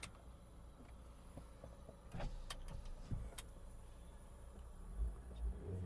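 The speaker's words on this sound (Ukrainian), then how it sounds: "Склопідйомники працюють." Faint electric window motors hum inside a quiet Hyundai Tucson 2.0, with a few small clicks and thumps as the windows move.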